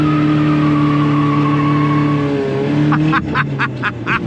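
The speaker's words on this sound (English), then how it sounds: "You can probably do a better burnout now." A truck running on vegetable oil in its engine does a burnout, a loud, steady engine drone giving way to a burst of rapid, choppy tire squeals near the end.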